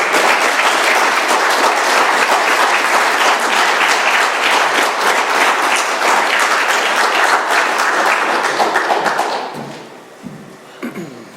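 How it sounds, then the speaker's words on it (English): A crowd at an Alcoholics Anonymous meeting applauds loudly and steadily for several seconds, then the clapping quickly dies away to a few scattered claps and room noise. "Let's give Christian another round of applause."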